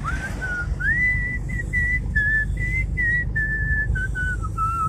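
A person whistles a wavering melody of short and sustained notes, clear and close, with a low steady rumble underneath, heard during a car ride.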